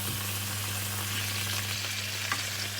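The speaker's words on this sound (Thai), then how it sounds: "ผัดนิดหน่อยจ้ะ" Chicken drumsticks stir-fried in a pan for a palo braise, a dense continuous sizzle over a low steady hum, with a faint scrape of the utensil near the end.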